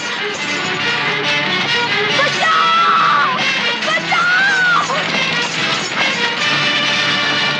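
A woman yells and screams for help during a fire scene in a Hindi comedy film. Her loud, sustained cries sit under a dense, continuous bed of music and commotion.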